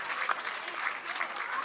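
A crowd at a professional pickleball match at the Veolia Cape Coral Open breaks into steady, close applause, a dense wash of clapping that carries through without pause.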